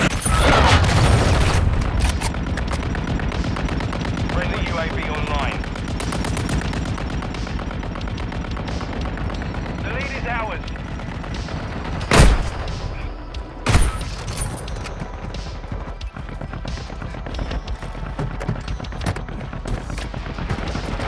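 Gunfire from Call of Duty Warzone Mobile: sustained rapid automatic fire and dense battle noise throughout, with two sharp, loud bangs standing out near the middle, followed by continued shooting.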